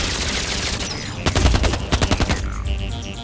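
Gunfire in a shootout, quiet at first and then a rapid burst of loud, closely spaced shots, followed by a few scattered reports as it fades.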